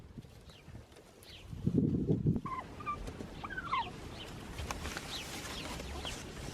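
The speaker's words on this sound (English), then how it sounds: "Hey, I'm almost positive there's baby turkeys in there. I can hear them chirping" Baby turkeys chirp faintly from a nest on a Bolivian farm, several short high peeps scattered over a low background, with a brief burst of louder rustling noise near the start.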